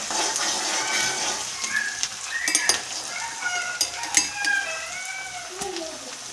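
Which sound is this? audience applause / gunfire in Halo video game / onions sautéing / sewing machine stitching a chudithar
onions sautéing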